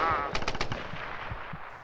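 Rapid automatic gunfire from a Tomb Raider multiplayer match, a burst of several quick shots at the start followed by scattered, fainter reports, with some speech-like sound mixed in.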